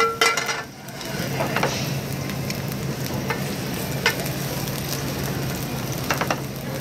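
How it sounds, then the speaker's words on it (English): Onions frying in olive oil in a pan, a loud, steady close sizzle with occasional spoon clinks and stirring scrapes, continuous with no voices. "We've got our oil in there. We're gonna add the onions. We're gonna let those cook for just a moment."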